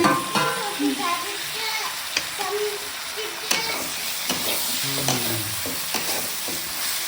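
Mushrooms for a pepper dry stir-fry sizzle in a pan with salt, a spatula scraping and clattering in irregular strokes over the steady hiss, close and loud.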